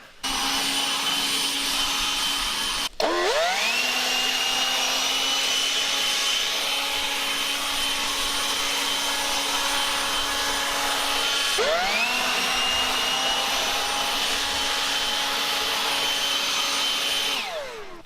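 A DeWalt 60V cordless leaf blower clears snow with a loud, steady high-pitched whine that dips and spins back up twice, running continuously and close for the whole stretch.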